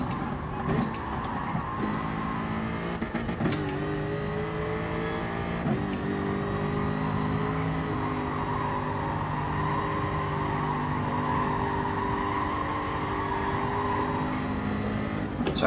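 A Jaguar F-Type revs through a qualifying session in a racing game, its engine droning steadily with rising and falling pitch as the driver shifts through gears, close and sustained with no talk.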